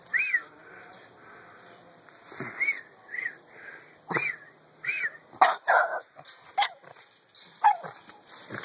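A puppy gives faint, high-pitched yelps, whines and short barks in scattered bursts, mixed with sniffing and wheezy breaths.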